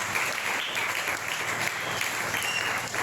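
A church congregation bursts into steady, dense applause acclaiming the word of God, many hands clapping together in a sustained, loud wash of sound throughout.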